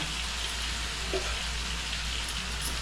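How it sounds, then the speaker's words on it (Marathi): Marinated chicken fries in a pan with a steady, even sizzle that stays fairly quiet and continuous throughout, with no voices over it. "आपल्याला ह्याच्यामध्ये फ्राय करायचं आहे थोडा मॅरिनेट केलेला"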